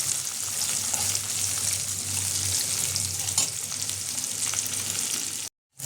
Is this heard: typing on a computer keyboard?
no